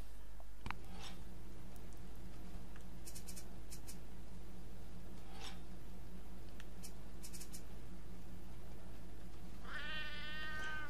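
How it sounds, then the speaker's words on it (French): Hungry cat in the video game Sheltered meowing near the end, a short rising meow over a faint steady game hum with a few soft clicks earlier. "Le chat il crie famine, il dit putain j'ai la dalle"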